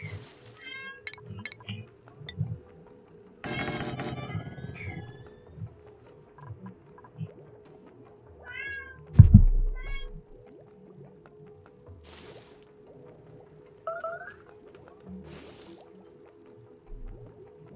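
Several short cat meows scattered across a quiet outdoor scene, with occasional soft drips and clicks in between and no voices.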